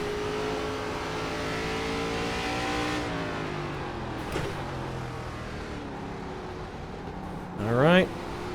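ARCA stock car engine in the iRacing game drones and shifts pitch as the car accelerates through corners, ending in a short rising rev burst with wheel spin. It plays under a driver's commentary.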